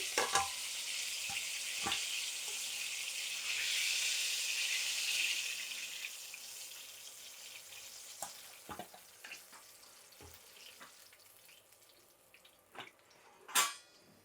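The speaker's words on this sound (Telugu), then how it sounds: "మళ్ళీ ఇప్పుడు ఇంక 2 ముక్కలు వేసేసి దాంతోపాటు రెండోసారి వేయిస్తున్నానండి" Oil sizzles and crackles steadily at low volume as KFC-style chicken pieces are deep fried a second time, swelling briefly as pieces drop in, with occasional clinks of a utensil against the pan.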